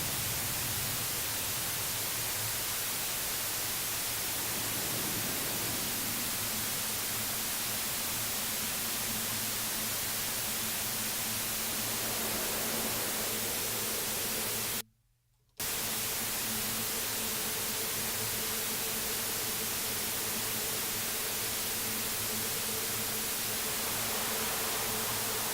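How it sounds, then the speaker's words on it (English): Synthesized white noise is swept through a resonator bank, producing a loud, continuous hiss with faint tonal harmonic lines blending in, interrupted by one brief dropout near the middle. "we're creating almost this little harmonic series blending in here with the white noise"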